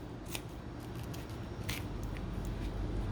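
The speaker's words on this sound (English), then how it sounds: "I'm going to try making my first cut" Scissors cut through a filter: a few sharp, crisp snips spaced apart, close and distinct over a low steady background hum.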